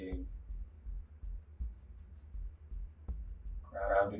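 A pencil hatching and shading on paper, making faint, rhythmic scratching strokes in quick repeated bursts, with a voice starting near the end.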